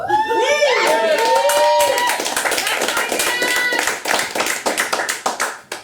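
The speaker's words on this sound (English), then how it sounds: "Get some applause on the record." Audience applause for a stand-up comedian at a live comedy show, dense clapping with whoops and cheers at first, thinning into scattered claps as it fades.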